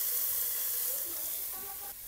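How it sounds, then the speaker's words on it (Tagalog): Ground pork sautés in a hot pan with a loud, steady sizzle and hiss that carries on alone, with no talking. "Gigisa natin siyang mabuti."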